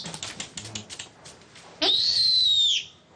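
A captive owl gives one sustained, clear whistling call lasting about a second, preceded by a run of light tapping and rustling clicks nearby.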